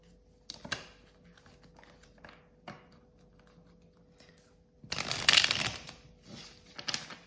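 Tarot and oracle cards are handled softly with scattered light taps and slides, then a louder riffling shuffle bursts for about a second before more faint card handling, all close and quiet.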